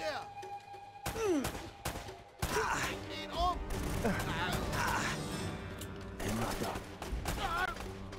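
Gunfire in the game Uncharted: Drake's Fortune rattles in dense bursts of headshots, interspersed with mechanical clanks and a few sharp impacts. Loud, continuous game combat plays throughout with brief pauses.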